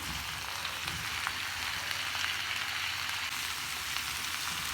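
Cauliflower and peas for aloo gobhi matar are stirred and roasted in a pan, making a soft, continuous sizzle at moderate distance that holds even throughout, with no voices.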